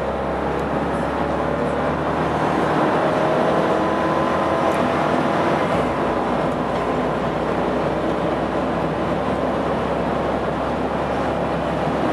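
A 1998 Range Rover 4.6 HSE V8 at full throttle on a highway, heard from inside the cabin as a loud, steady engine and road roar with a deep low rumble that drops away near the midpoint, without any talk.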